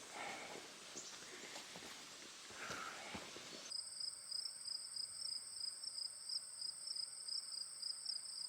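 Grasshoppers chirp outdoors beside the Appalachian Trail in warm weather, a faint rhythmic, pulsing trill that begins partway through and repeats steadily after some softer rustling, with no voices.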